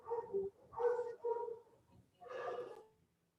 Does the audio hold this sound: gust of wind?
no